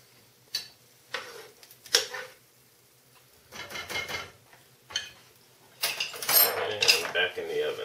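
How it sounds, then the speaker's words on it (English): Steaks are shifted onto warm plates, giving several sharp clinks and taps of dishes and cutlery, close by and fairly quiet, with a denser run of clattering near the end. "I'm going to take the steaks and move them onto the plates."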